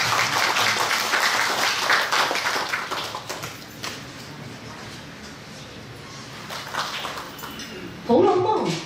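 An audience claps at a Yue opera cross-strait exchange performance in the United States, with dense applause at the start that thins and fades away, followed by a brief voice near the end.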